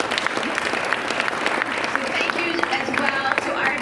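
Applause from a luncheon audience at the Army–Navy Game media event in Philadelphia, steady dense clapping with voices mixed in.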